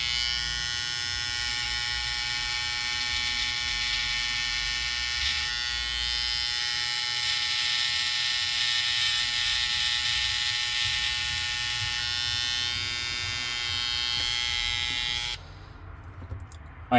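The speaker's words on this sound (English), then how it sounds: "You shouldn't expect from Babyliss to cut carpet" A Babyliss electric trimmer runs against carpet, a steady, close, high-pitched buzz that holds for about fifteen seconds and then cuts off abruptly.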